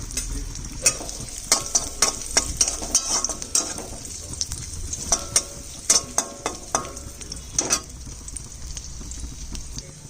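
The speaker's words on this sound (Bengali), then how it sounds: "চার পাঁচটা কাজু আর কিশমিশ ভেজে নিচ্ছি" Four or five cashews and raisins fry in a pan with a steady high sizzle, while a spoon stirs and scrapes against the metal in a stream of sharp clicks, close up with no speech.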